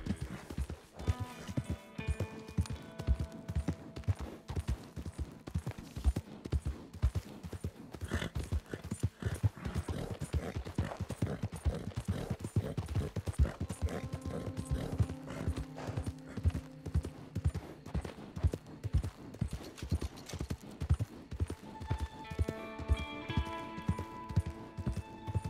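Steady, rhythmic clip-clop of horse hooves on a hard surface from the video game Red Dead Redemption II Online, continuous and close, with a brief whinny and some light music-like tones in the background.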